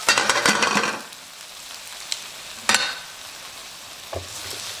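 Sliced mushrooms and ground beef stir frying in hot vegetable oil in a pan, a loud burst of sizzling at the start settling into a steady low hiss, with a few sharp clinks of a utensil against the pan.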